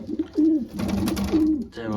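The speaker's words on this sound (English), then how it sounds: "There are the birds." Racing pigeons in a breeding loft give several low, throaty coos in quick succession, close and fairly clear, with some soft rustling and a light background hum.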